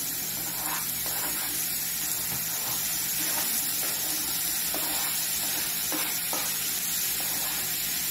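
Tomato sautéing with onion and garlic in a pan for an eggplant sauce, a steady close sizzle and hiss with occasional stirring scrapes throughout, no talk.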